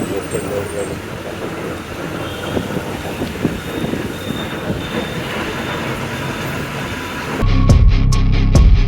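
A train rumbles steadily past at Tirupati railway station with faint wheel squeal and a few distant voices, then a louder, harsher burst of noise near the end.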